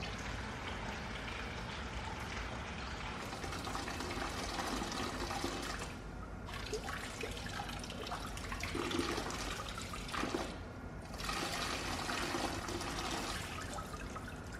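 Steady running water poured during an aquarium water change, a continuous splashing rush that barely pauses for two brief dips before flowing on.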